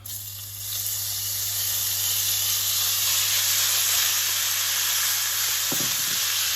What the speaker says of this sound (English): I'm just gonna add my ground beef.